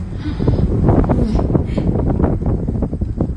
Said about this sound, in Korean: 이 바람 이렇게 치고 올라오고 저쪽에서 밀어보라고